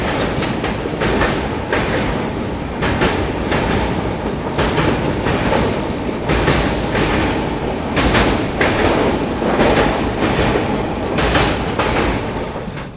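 Steady interior rumble of the 12615 Grand Trunk Express from Chennai to New Delhi on the move, a continuous roar with rhythmic clickety-clack of wheels over rail joints and occasional rattles, loud and close throughout.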